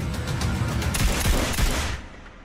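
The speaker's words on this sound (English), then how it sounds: "Shots fired in the embassy." Loud gunfire from an embassy assault scene in the film trailer for 6 Days, heard as a dense rapid fusillade of overlapping shots that fades out at the end.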